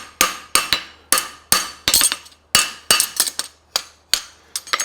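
A hammer rings on steel against an anvil as a French hind horseshoe is forged, with sharp, bright strikes in uneven clusters and quick rebounds between blows, close and loud with no talking.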